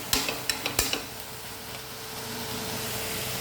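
Kambu upperi, a Kannur-style stir-fry, is stirred in a pan. A few sharp metallic knocks of the spoon against the pan come first, then a steady low sizzle with no talk.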